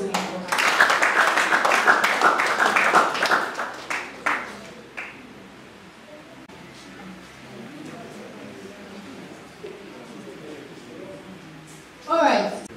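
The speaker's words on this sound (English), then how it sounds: "A round of applause once again for her." An audience at a graduation ceremony for tech fellows claps loudly for about four seconds, the applause fading into a quiet room with soft murmurs, then a brief burst of claps returns near the end.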